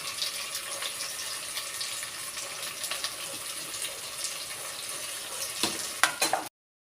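Masala sizzles steadily in a frying pan while being stirred, with scraping clinks of the spoon growing louder near the end.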